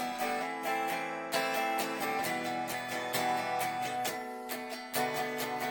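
Electric or acoustic guitar strummed across all strings in a busy sixteenth-note rhythm, full ringing chords with dense repeated strokes, close and steady without talk.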